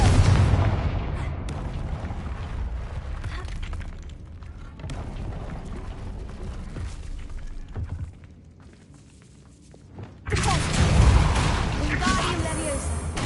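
A Confringo fire spell goes off in a video game, with booming explosive blasts and crackling bursts that rumble throughout. A louder burst of impacts lands near the end.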